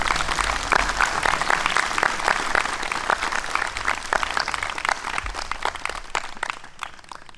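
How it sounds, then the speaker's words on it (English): Dense, sustained crowd applause fills a Veterans Day gathering at Verona Walk as quilt recipients are honored, with many hands clapping evenly and continuously throughout. "Please give them another round of applause."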